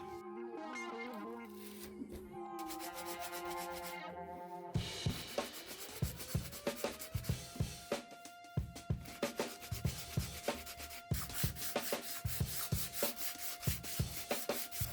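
Rhythmic back-and-forth rubbing of sandpaper on small wooden deck pegs of a model ship, close and steady, with strokes growing faster and louder partway through over a music backing.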